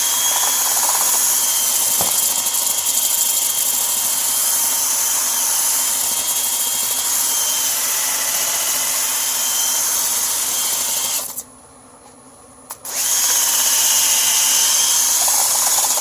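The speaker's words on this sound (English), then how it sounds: "Then I come back with my sander, and now I start sanding this." A power sander sanding a natural edge wooden bowl on a lathe whirs in a steady, high drone with a rough grinding edge, stopping briefly for about a second before starting up again.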